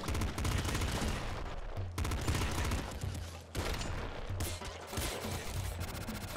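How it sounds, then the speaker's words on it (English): A triple machine gun in Nuclear Throne fires in dense, rapid automatic bursts, loud and continuous, with short pauses between volleys and heavy low-end thumps under the gunfire. "Triple machine gun."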